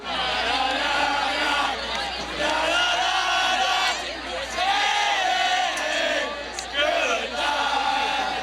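School spirit cheering at a football game, a large crowd yelling and whooping in repeated surges, with loud shouted bursts rising and falling over a constant roar of voices.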